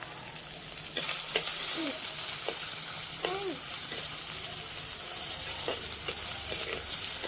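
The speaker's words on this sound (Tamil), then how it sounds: "அதில் வெங்காயம் போட்டுக்கலாம்." Onions sautéing and being stirred in a clay pot for a village-style mutton curry, a steady close sizzle with scraping stir strokes throughout and no talk.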